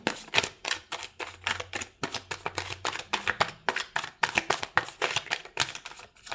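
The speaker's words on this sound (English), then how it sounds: "I'm going to go through free shuffle one time with this deck" Cards being shuffled up close in quick repeated bursts of riffling and snapping, with short gaps between each pass.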